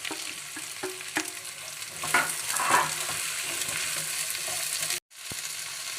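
Chopped onion hits a hot pan already holding green chilies and two sprigs of curry leaves for a Palakkad-style chicken and ash gourd curry, sizzling steadily with stirring scrapes throughout and a brief cutout near the end.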